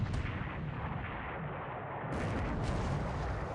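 Dull, rumbling naval battle gunfire in a WWII Pacific strategy video game, a steady booming wash of distant artillery without distinct separate shots, fairly low in level.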